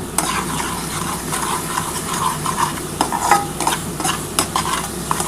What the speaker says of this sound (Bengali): এবার কিন্তু খুব ভালোভাবে মশলাটা কষাতে হবে।